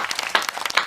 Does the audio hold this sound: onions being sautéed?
no